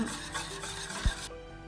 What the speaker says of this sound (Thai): หลังจากกรองเสร็จแล้วก็กวนให้เข้ากันอีกครั้ง